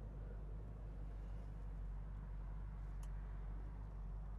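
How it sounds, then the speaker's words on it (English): A 1970 Plymouth Cuda engine idles steadily and evenly, a continuous low rumble with no bucking or misfires, heard alone without talk. "Notice how we're idling. Real nice and steady."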